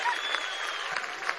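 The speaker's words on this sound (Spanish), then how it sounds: "Vamos a un aplauso a nuestros nietos y nietas." A crowd claps steadily at a rally at Miraflores palace, a dense even patter that holds at one level throughout, with faint voices mixed in.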